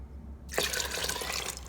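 Tap water running into a container while measuring water for Instant Pot pinto beans, a sudden bright rushing splash that starts after a brief quiet moment and continues steadily and close.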